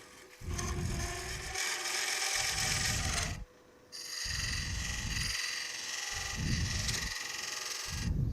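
A woodturning tool scraping across the spinning bottom of a wooden lidded box on a lathe, with steady rasping cuts in repeated passes and a brief pause midway.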